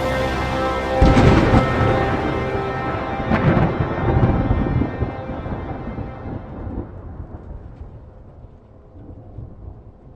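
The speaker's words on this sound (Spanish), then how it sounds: "oí el estampido de los truenos y demás ruidos que la naturaleza profiere" A loud crack of thunder breaks out, followed by long rolling rumbles that slowly fade away over several seconds, with no voices.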